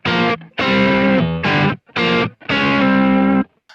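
Distorted electric guitar played through a Kemper Profiler, sounding as five loud sustained chords or phrases separated by short gaps, with no talking.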